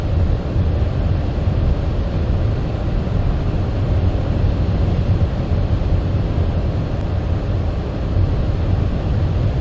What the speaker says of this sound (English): Wind's just a-blowing.